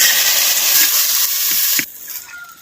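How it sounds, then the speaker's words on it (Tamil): Grated coconut sautéing in sesame oil for a Chettinad vatha kuzhambu, a loud steady sizzle and hiss from the pan that drops off sharply near the end, with no voices. "தேங்காய் பூவை அப்படியே நல்லா நல்லெண்ணெயில் வதக்குறேன்"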